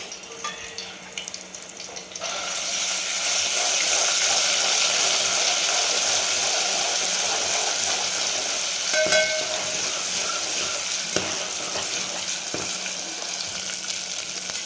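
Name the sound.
ginger garlic coriander green chilli paste frying in hot oil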